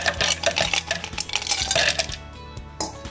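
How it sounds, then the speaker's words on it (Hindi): Ice cubes tipped into a blender jar of lassi, a quick run of hard clinks and rattles close by, then quieter. "अब मैं इसमें डालूंगी बर्फ"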